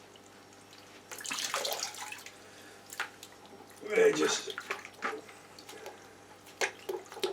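Water drains out of a Fluval Roma 200 aquarium during a water change, splashing and trickling in a few bursts that rise and fall, with a voice speaking briefly over it.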